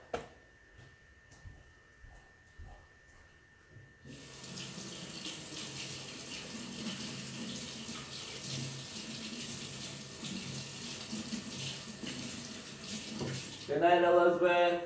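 Tap water runs steadily over tomatoes in a kitchen sink, a continuous broadband splashing that starts after a few quiet seconds with faint handling noises, then gives way to a brief louder burst near the end.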